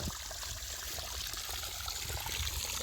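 Jeevamrut liquid fertilizer, about 400 litres, trickles and pours into canal irrigation water on a sugarcane field, a continuous watery flow heard up close with no voices.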